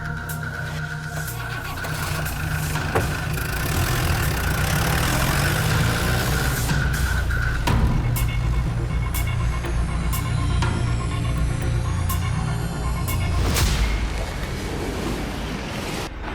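A scooter engine idles steadily for a long stretch, a continuous low rumble under broad outdoor noise, with a few brief knocks and clicks along the way.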